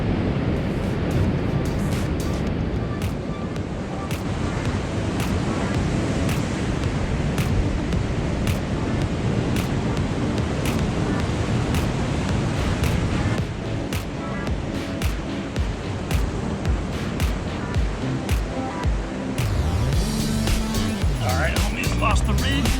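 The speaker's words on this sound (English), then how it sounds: "Hella waves." Ocean surf at the shore during a fishing trip, a loud continuous roar of rough waves with heavy wind buffeting the microphone and a voice at times.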